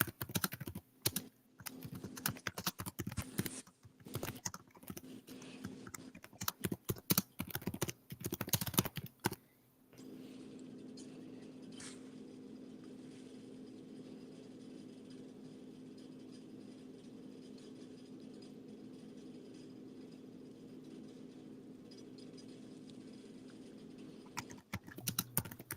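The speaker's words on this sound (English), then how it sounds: "Hold on, I'm typing in private chat." Typing on a computer keyboard, bursts of rapid clicking keystrokes for about ten seconds, then a steady hum with a few scattered key taps near the end.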